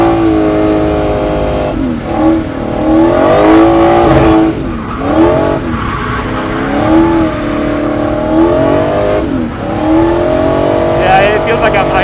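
A supercharged V8 drift truck drifts around a large road course with a loud, continuous engine roar. The revs rise and fall in waves as it slides through the corners, with tire squeal mixed into the close, heavy engine noise.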